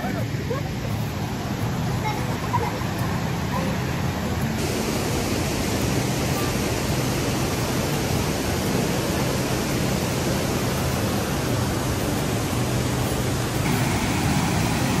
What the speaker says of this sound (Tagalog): Medyo malakas yung ragasan ng tubig ngayon.